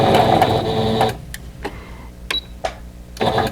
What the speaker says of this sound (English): we're ready to sew these together